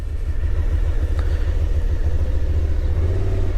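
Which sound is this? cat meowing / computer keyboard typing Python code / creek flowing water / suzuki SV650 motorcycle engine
suzuki SV650 motorcycle engine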